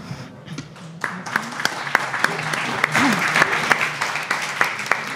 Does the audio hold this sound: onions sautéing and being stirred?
no